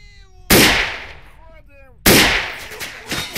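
Two sharp, loud gunshots from an MP40 submachine gun in the shooter game S.T.A.L.K.E.R., spaced about a second and a half apart, each with a decaying tail; a brief chirpy whistling sound sits between them.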